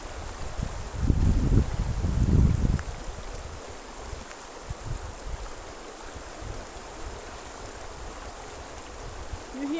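River water flowing beside a village nature walk, a steady soft rushing wash with a louder rumbling burst near the start, continuous and moderately distant.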